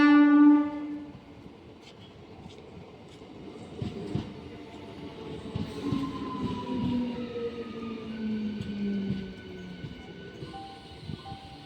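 A train at a station in Hyderabad sounds a long horn blast at the start, then rumbles and squeals along the rails at moderate distance for the rest of the stretch, with no voices.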